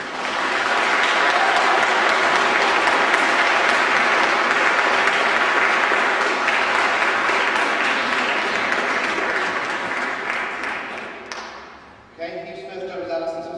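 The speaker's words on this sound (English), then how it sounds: "Let's give them a round of applause" Wedding guests applaud the newly pronounced couple, Alison and Hugh, in a 2004 ceremony, with a long, full burst of clapping that fades near the end before a voice speaks.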